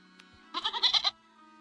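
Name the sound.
goat bleating in the video game REKA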